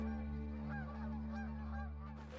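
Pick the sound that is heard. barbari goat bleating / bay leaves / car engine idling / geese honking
geese honking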